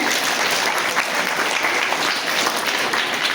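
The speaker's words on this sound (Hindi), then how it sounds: "एक बार पुनः ताली आप श्रुति के लिए बजाएं" A dense, even burst of applause from an audience at a school Women's Day celebration, honoring a girl after her poetry recitation, loud and continuous throughout.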